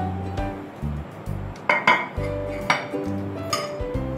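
Metal utensils clink and scrape against a pot as raw prawns are added and stirred into a Bengali posto chingri, with sharp close clinks and short bursts of stirring at an irregular pace.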